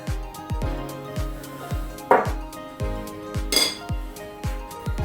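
A spoon mixes flour, salt and other dry ingredients for a grated pie in a bowl, scraping and clinking in a steady repeating rhythm, with a couple of louder clinks, close and fairly quiet.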